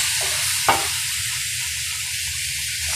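Spices sauté in a pan with a steady, close hissing sizzle, broken early by a single sharp utensil clack against the pan.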